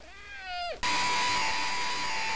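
A cartoonish cat meows once in the video game Revenge of the Sunfish, a short rising-falling mew that cuts off into a loud, sustained electronic tone.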